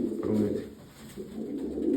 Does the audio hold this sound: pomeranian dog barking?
no